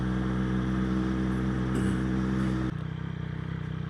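A Triumph Street Triple 765 motorcycle hums along at a steady cruising pitch, with a constant engine drone and wind rush that shifts to a lower, slightly rougher tone near the end, with no talking.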